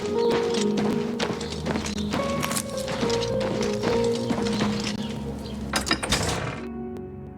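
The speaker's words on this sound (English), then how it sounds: "Is this my horse? This is a horse." Horse hooves clip-clop in the video game The Elder Scrolls IV: Oblivion Remastered, a run of close, sharp knocks over droning game music with bright tones, ending as the sound cuts off near the end.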